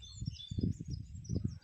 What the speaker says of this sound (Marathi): फक्त पक्ष्यांचा किलबिलाट